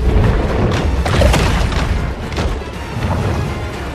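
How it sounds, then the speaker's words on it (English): Heavy underwater torpedo explosions in the shark game Maneater, a dense series of loud booms and crashing thuds rolling over one another for several seconds. "Torpedoes coming at me."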